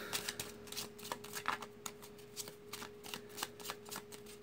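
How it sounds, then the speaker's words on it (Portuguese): Close, quiet riffling and snapping of Lenormand cards being shuffled for a reading, a series of quick rapid bursts with brief pauses between. "Baralhando as cartas para começar."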